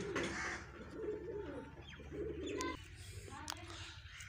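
Pigeons coo repeatedly at close range over a low background hum, with a few brief chirps near the end, as grain is scattered for them.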